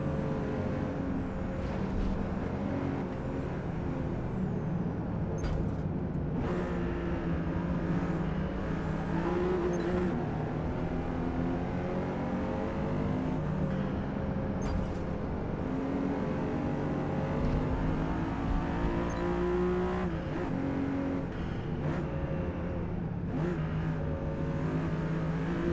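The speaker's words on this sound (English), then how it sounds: "It's got quite a deep guttural sound for a 2-liter V6." A deep, guttural 2-liter V6 race car engine in a video game drones steadily throughout, with shifting pitch as it revs up and eases off, close and continuous with no talking.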